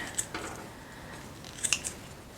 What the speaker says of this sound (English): I'm gonna just cut up some sun-dried tomatoes with my kitchen scissors